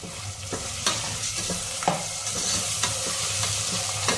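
Ginger garlic paste sizzles steadily in a pan for a mutton and taro root curry, with a spoon or spatula scraping and stirring at regular intervals, close and fairly loud, no voices.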